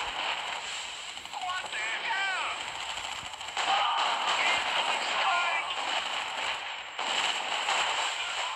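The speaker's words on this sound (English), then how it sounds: "that is when I decided to return fire" Gunfire and explosions from a PvP battle in the mobile strategy game Art of War 3: Global Conflict: dense, rapid bursts of shots and booming blasts, steady and moderately loud, with chirping effects now and then.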